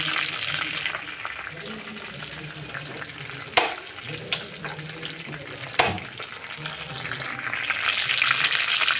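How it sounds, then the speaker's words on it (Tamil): Curry leaves frying in oil for brinjal thokku, a steady hissing sizzle with a few sharp knocks of a spatula against the pan, a voice talking faintly over it. "கருவேப்பில் போட்டுக்கோங்க கருவேப்பில் நல்லா வறுபடுறதுக்கும்"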